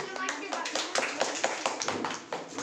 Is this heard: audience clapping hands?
yes